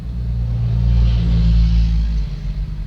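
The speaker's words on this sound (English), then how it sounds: "that was a car just going past my window" A car passes by outside, heard from indoors through a window, a low rumbling swell of engine and tire noise that rises and fades over a few seconds.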